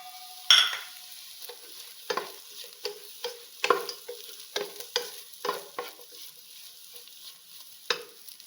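Pieces of fried chicken are stir-fried in a pan with egg for fried rice, giving a steady sizzle under sharp, irregular scraping strokes of a spatula, close and moderately loud.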